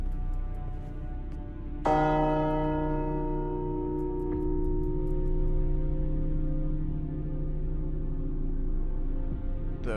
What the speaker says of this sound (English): Big bell.